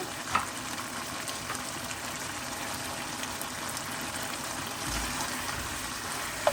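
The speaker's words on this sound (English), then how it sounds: "So what I'll do now is I'll add in my onion." Chopped onion cooks in a pot for Fiji-style lamb shank in soy sauce, giving a soft, steady frying hiss. Two brief clinks from a spoon or utensil can be heard.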